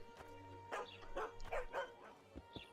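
A dog in the fantasy role-playing game The Witcher 2 gives a run of quick yips and barks, several short bursts close together over a low hum of game ambience.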